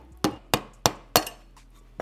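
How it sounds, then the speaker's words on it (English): A hammer strikes a punch to drive a pin out of a motorcycle gear shifter during a Honda RM250 rebuild, with four sharp metallic taps at an even pace, close and clear, followed by a faint fifth hit. "Looks like we'll be able to just punch this pin right out."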